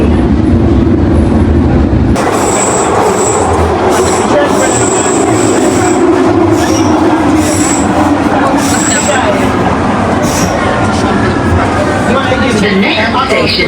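A London Underground Circle Line train runs loudly and close, with a steady rumble, wheel squeal and clatter throughout while an automated announcement voice speaks over it.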